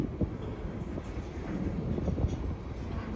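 Westbound Norfolk Southern manifest freight train creeping past at about four miles an hour at a road crossing, a low, steady rumble with faint rhythmic clanks from the wagons and some wind noise.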